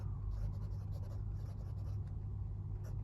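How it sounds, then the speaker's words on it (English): Jinhao Tiandao 1935 fountain pen with a medium steel number 8 nib writing on Rhodia 80 GSM paper, a soft continuous nib scratch over a steady low room rumble, close and quiet. "Let's do a writing sample with the Jinhao"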